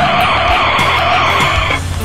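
A bus brakes hard, with a loud, close screech of tires and brakes lasting about two seconds under a low engine rumble before it settles.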